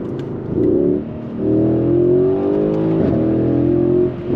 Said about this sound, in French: V8 biturbo avec le système 4 roues motrices, l'entièreté de la puissance qui vient passer au sol directement avec l'échappement sport activé